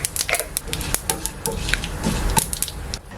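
Chana dal and cumin seeds being sautéed and stirred in a pan, with irregular scraping and light clinking of a utensil against the pan over a soft sizzle, close and steady, no talk.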